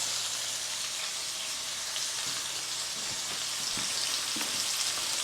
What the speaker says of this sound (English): We want it to sear and maybe get a little crust on it.